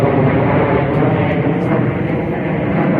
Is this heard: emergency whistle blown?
no